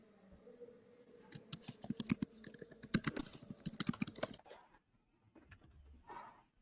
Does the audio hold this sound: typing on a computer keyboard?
yes